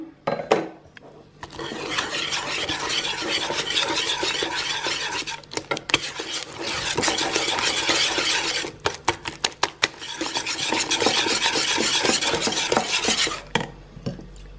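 Butter is stirred into thickening apricot tart cream in a pan on the heat, with continuous loud scraping and clattering of a utensil against the pan, broken by a few brief pauses.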